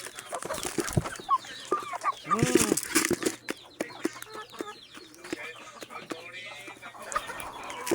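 Chickens cluck repeatedly up close, with bursts of agitated squawking and some wing flapping, plus scattered short vocal sounds in the background.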